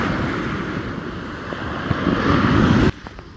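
Rough ocean surf and gusting wind on a choppy day give a steady, loud broadband roar with wind buffeting the microphone, then drop off sharply near the end.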